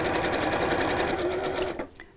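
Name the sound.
sewing machine stitching straight across a seam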